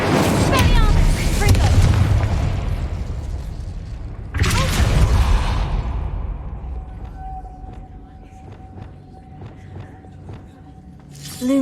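Incendio fire spell cast in Hogwarts Legacy: two loud booming, crackling bursts of flame, the second fading into a low rumble and a thin ringing tone, then a final sharp burst at the end.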